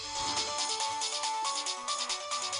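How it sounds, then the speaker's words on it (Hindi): A mobile phone ringtone playing a busy electronic melody with a steady pulsing beat, continuous and fairly soft throughout, with no talking over it. "किसी का फोन है शायद।"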